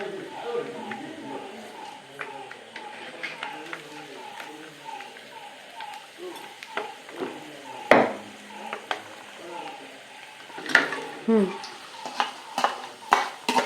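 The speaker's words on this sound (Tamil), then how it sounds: "இப்போ வெடிக்கிற சத்தம் வருது பாருங்க." Peanuts crackle and pop in hot oil, sharp scattered snaps over steady sizzling and the scrape of stirring, with a person talking.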